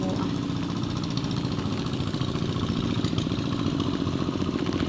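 A farm machine works a rice paddy, its engine running steadily with a constant droning, clattering rumble that stays loud and unbroken throughout.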